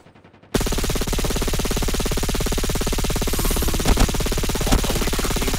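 Sustained rapid automatic turret gunfire in Call of Duty Mobile, starting abruptly after a brief quiet moment and hammering on loud and steady with a dense, even rhythm, a couple of sharper blasts punching through near the end.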